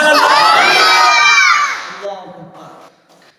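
Large crowd at a religious gathering loudly chanting Subhan Allah in unison, a dense roar of many voices that holds for over a second and then fades out into scattered voices.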